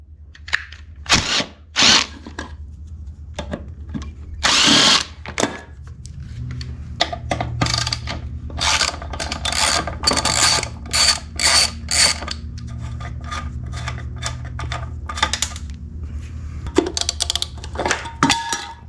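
A power tool works on the airbox cover of a 1974 Yamaha DT175 dirt bike in short repeated bursts of whirring and ratcheting, close and loud, with pauses and small clicks between runs.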